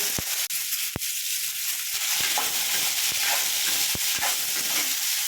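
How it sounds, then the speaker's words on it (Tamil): Mustard seeds sizzle and crackle in hot oil while amla and curry leaves are cooked, a steady close hiss with sharp scattered pops throughout. "எண்ணெய் சூடேறிச்சுங்க, கடுகு போட்டுக்கலாம்."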